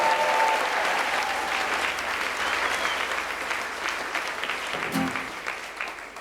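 Sustained crowd applause at a Swiss carnival Guggenmusik evening in Zwingen, dense and steady for several seconds, easing slightly toward the end after a brief thump near the close.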